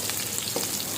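Chopped onions frying in a pan for a hilsa fish head and bottle gourd curry, giving a steady close-up sizzle with a constant hiss and no voices.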